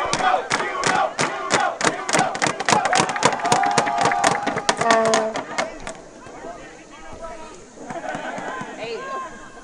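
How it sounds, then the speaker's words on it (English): A packed stadium crowd at a soccer game at Sessions Field cheers, oohs and aahs in loud, dense waves with sharp shouts and claps, easing to a murmur of chatter near the end. "The crowd oohs and ahs as a packed crowd at Sessions Field is really bringing the noise for tonight's game"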